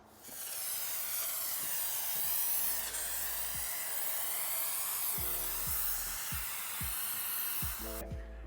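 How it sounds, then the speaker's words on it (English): Spray adhesive glue hisses out of a can in one long steady spray inside a van, with faint low knocks and clicks underneath it. "After you spray your glue,"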